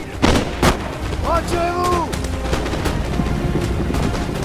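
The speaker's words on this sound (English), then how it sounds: "Even in this storm of bullets and artillery explosions, only the last 15 of them flee." Gunfire and artillery explosions in a battle strategy video game with a Prussian army: two sharp bangs early on, then a steady dense rumble of distant fire under tonal game sounds.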